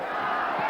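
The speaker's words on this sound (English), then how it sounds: "The crowd chanting early for Chavez." Boxing arena crowd at a Julio Cesar Chavez versus Miguel Angel Gonzalez WBC title fight chanting for Chavez, a dense, steady roar of many voices filling the hall without pause.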